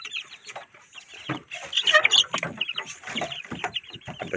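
Backyard chickens kept in an open-air pen cluck and call in overlapping bursts, moderately close, with a busier, louder stretch in the middle and no talking.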